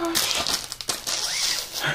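Plastic bags being handled and crinkled, a dense papery rustle running nearly continuously for about two seconds, close and fairly loud, with a brief pause in the middle.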